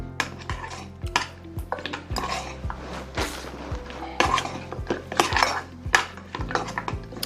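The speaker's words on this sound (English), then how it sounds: "we stir until our chocolate melts" Chocolate being stirred in a pot until it melts, a utensil clinking and scraping against the metal in a steady, repeated rhythm, close and fairly loud with no talking.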